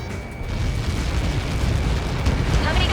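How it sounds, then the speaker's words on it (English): A massive missile impact explosion in the flight combat game Ace Combat 7 produces a deep, sustained rumbling boom that swells and rolls on without a break. "How many got caught in that explosion?"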